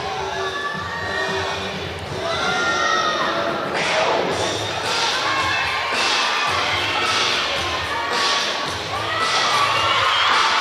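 Spectators at a college gymnastics meet between Clemson and North Carolina cheer and shout in a loud, sustained swell, with repeated surges of whooping and clapping over a constant arena crowd din.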